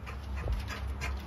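A Bluetick English coonhound panting at a kennel, a quick rhythmic huffing of breaths close by over a steady noisy background.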